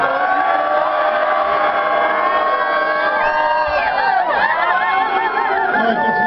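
A concert crowd at a metal show in a small bar venue yells and cheers continuously, a loud, dense roar with whoops and shouts rising above it throughout.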